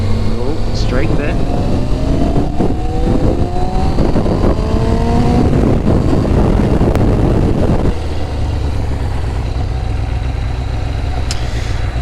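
A 23-year-old Kawasaki ZX6R sport motorcycle engine revs loudly and close while riding, rising steadily through the gears before easing back to a steady drone.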